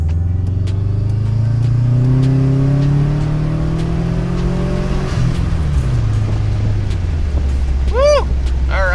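A Subaru turbo car at full throttle, running about 18 psi of boost, pulls hard through the revs in a rising engine drone, shifts, then falls back, with chirping whistles near the end.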